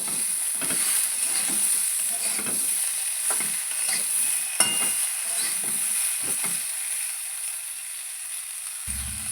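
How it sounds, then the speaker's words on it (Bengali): Sliced flat beans and potatoes fry in a pan with a steady bright sizzle, broken by repeated scraping stir strokes at an uneven rhythm, close and moderately loud, with no talking. "এটাকে দিয়ে ভালো করে কিছুক্ষণ 2-3 মিনিট মতো ভেজে নেব"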